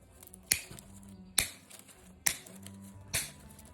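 Sharp snips from shears cutting thin, mushy orchid roots, four crisp clicks spaced about a second apart, close and clear with faint rustling between, no voices.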